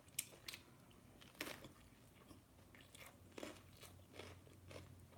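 Crunchy bites into a Safeway Vietnamese spring roll, a sharp crackling crunch near the start and more bursts throughout, with soft chewing between them, close and fairly quiet, no talking.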